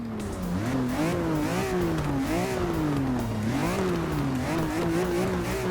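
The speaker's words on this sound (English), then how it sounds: "Let's give this some warming up revs." A 2005 BMW M3 engine in Forza Motorsport 6 revs repeatedly at Silverstone, its pitch climbing and falling in quick waves, loud and close, with a sustained throaty roar between the bursts.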